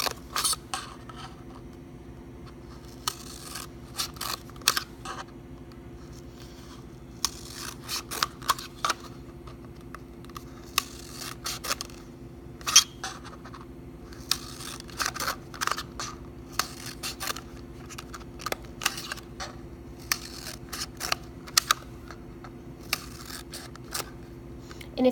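Scissors snip through a cup for cup weaving in short, irregular clicks and crunches, one cut at a time over a low steady hum, close and fairly crisp.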